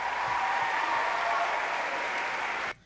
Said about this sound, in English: Here comes the applause.